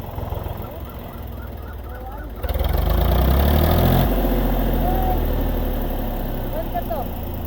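A farm tractor's engine idles nearby at dusk after fieldwork, a low steady throbbing chug that grows louder partway through, with people talking and animal calls in the background.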